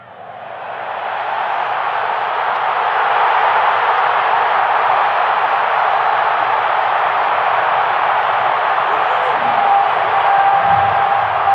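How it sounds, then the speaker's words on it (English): A packed Philadelphia Eagles football stadium crowd roars for a playoff run, the cheering swelling over the first few seconds into a loud, sustained wall of noise. "Listen to the crowd."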